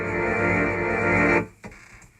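A sustained, dense synthesized swell holds steady and loud, then cuts off abruptly, followed by a brief faint tail.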